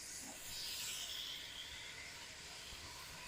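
Onions, peppers and garlic with beef in a pan for meat sauce give off a steady, quiet sizzling hiss that holds evenly throughout, with no talk.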